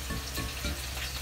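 Rare steak searing in a hot pan, block-shaped cut browning on its edges, a dense, continuous sizzle heard up close with faint low thumps and no talking.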